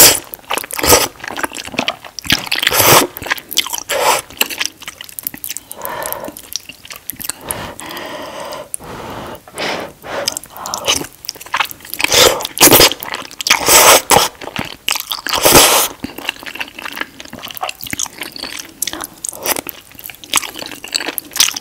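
Close-up eating of spicy noodles with mozzarella-filled rice cakes: loud wet chewing, slurping and soft crunchy bites repeating irregularly, with no talking.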